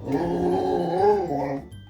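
A puppy growls steadily at close range for about two seconds, a rumbling, slightly rising and falling vocal growl that fades out at the end, with no talk over it.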